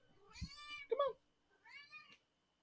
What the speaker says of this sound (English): is your cat meowing in the background?